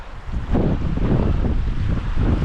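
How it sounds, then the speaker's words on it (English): Water rushes down Hells Gill beck, a loud, close, steady churning roar mixed with wind buffeting the microphone, with no voices. "it's all water coming down here"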